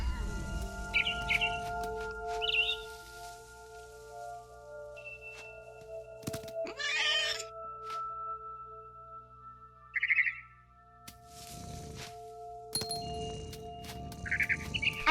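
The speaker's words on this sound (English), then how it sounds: "Then I heard chirping outside my window." A barn swallow chirps in short, high twittering bursts near a nest in What Remains of Edith Finch, sparse calls over a faint ambient hum, with a couple of duller knocks between them.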